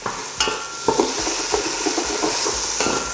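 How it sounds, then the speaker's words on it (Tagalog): Sautéed onions in oil being stirred in a pot while starting a pork sinigang with baby back ribs, with loud close sizzling and several distinct spoon scrapes against the pot, no voices. "so haluin lang natin to"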